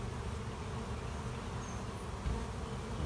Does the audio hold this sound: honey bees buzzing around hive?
yes